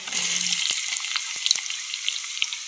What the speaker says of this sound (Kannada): ಒಗ್ಗರಣೆ